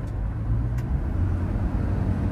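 A Toyota Innova Crysta car driving, its low engine and road rumble steady and continuous throughout, with no talk.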